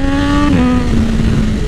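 A Triumph Daytona 675R motorcycle engine idles and putters at low revs, a loud, steady near drone with a slight pitch dip partway through, heard alone.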